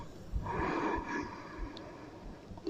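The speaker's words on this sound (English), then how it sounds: "Two more big breaths wherever you are." A slow, deep breath during a tantra yoga session: a soft, airy inhale and exhale, close and quiet, with a few faint nasal sniffs and light rustles around it.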